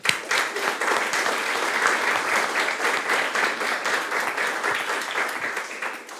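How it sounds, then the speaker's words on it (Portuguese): Sustained audience applause at a concert launch event celebrating composer Almeida Prado's 80th birthday, dense steady clapping from a crowd filling the room, holding strong throughout before easing slightly at the end. "uma salva de palmas, por favor"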